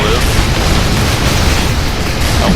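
A vehicle shot down and exploding in Unreal Tournament 3, a loud sustained roaring blast with dense crackling noise that fills the whole moment without a break.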